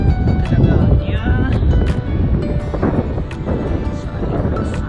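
Gusty wind buffets the microphone with a steady rumbling roar, continuous and loud, with faint voices in the background, in very cold weather at the Myeongnyang battle site.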